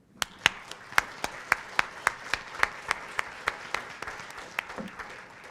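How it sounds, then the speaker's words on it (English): Thin, scattered applause from an event audience thanking sponsors, a handful of distinct claps near the front standing out in a roughly regular rhythm over a soft background of other hands. "A round of applause."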